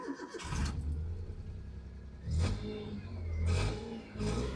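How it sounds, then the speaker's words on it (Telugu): A Maruti Alto petrol hatchback with the AC running cranks and fires up, followed by a couple of short revs rising and falling, close by and fairly quiet, with no one talking. "ఒకసారి ఇంజిన్ స్టార్ట్ చేస్తున్నాను చూడండి ఫ్రెండ్స్"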